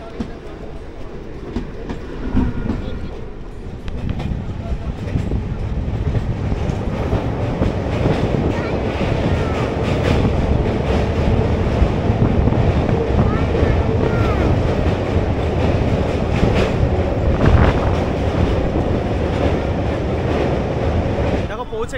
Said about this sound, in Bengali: আমি এখান থেকে লোকাল ট্রেন ধরবো